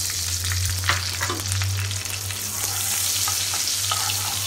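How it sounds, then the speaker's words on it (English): Two dollops of butter melt in hot oil for a paneer masala, giving a close, steady sizzle with a low kitchen hum beneath and light crackling pops. "Now in the same oil, put 2 dollops of butter or makhan."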